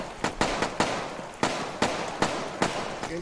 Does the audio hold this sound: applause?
no